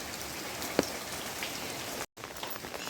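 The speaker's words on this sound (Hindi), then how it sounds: "बिल्कुल बारिश का कम होने का नाम नहीं है" Steady heavy monsoon rain pours down in Haridwar, a dense hiss of drops drumming on surfaces, with one brief sharp knock and a momentary cut to silence.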